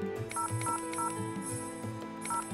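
A phone in the game Sinful Eden being dialed, with a short run of evenly spaced dial tones over a steady background hum, moderately loud and close, with no talking.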